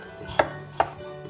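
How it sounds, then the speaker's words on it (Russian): Knife chopping peeled pumpkin into small pieces on a board: two crisp, close knocks about 0.4 seconds apart, each a short sharp chop with quiet kitchen room tone between. "этот замечательный овощ я нарезаю небольшими кусочками"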